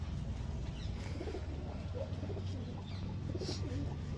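Border pigeons from Gujarat coo softly at close range, low murmuring calls repeating over a faint background hum, with a brief higher chirp near the end.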